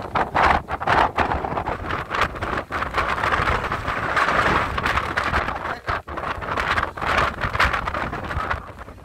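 Wind buffets the microphone in steady gusts, a loud rushing roar with rumbling low thumps throughout, no voices.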